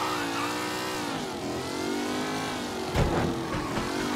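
A car engine in the Mafia 3 video game revs steadily with a rising, falling drone, loud and close, then surges briefly near the end; no one speaks.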